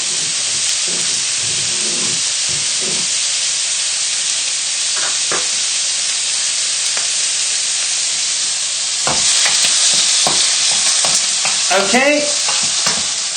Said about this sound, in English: just keep moving the chicken around the pan to check it doesn't stick.